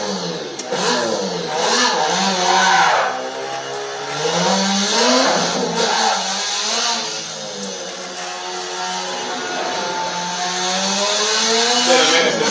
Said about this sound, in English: today we're going to be running an RX-7 on the Nuremberg ring. So let's take a lap around